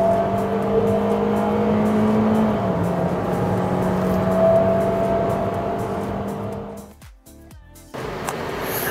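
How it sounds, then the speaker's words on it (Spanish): Toyota GR Sport cars lap a racetrack with a sustained engine drone and shifting revs as they pass near, the sound fading and cutting out briefly toward the end before traffic noise picks up again. "terminar estas vueltas donde nos tocó manejar todos estos modelos de la gama GR Sport"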